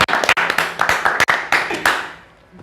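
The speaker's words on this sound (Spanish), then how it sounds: "Un aplauso." A small family clapping together at the start of a home podcast episode, close and loud, with uneven individual claps that build into a short burst and then trail off after about two seconds.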